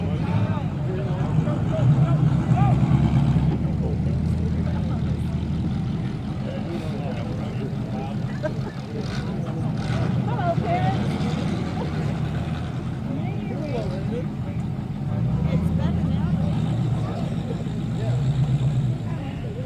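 Eight-cylinder stock cars race around Valley Raceway in a feature event, their engines a steady low roar of several cars circling nearby under a caution, with an announcer talking over the rumble throughout.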